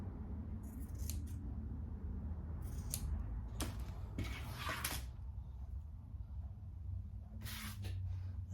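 Scissors trimming the yarn beard of a macrame gnome ornament, several quick crisp snips in short bursts, close but quiet over a low background hum.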